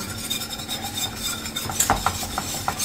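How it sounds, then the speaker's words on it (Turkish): A whisk stirs cheese sauce in a pan, giving soft scraping and swishing with a few light metallic taps against the pot, fairly close and quiet. "Şimdi alın elinize bir tane çırpıcı. Başlayın karıştırmaya."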